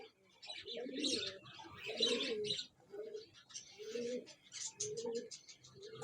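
Parwazi pigeons at a pigeon club coo in repeated soft, rolling phrases close by, with light chirps from other birds mixed in.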